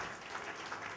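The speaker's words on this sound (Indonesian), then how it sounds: "Tepuk tangan bagi Allah kita." Congregation at a church sermon clapping together, a steady dense wash of applause filling the whole short moment, with no talk over it.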